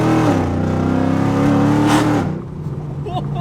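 A Chevrolet Camaro SS fitted with cheap aftermarket headers revs loudly nearby, a deep sustained engine roar that drops away sharply to a lower rumble near the end.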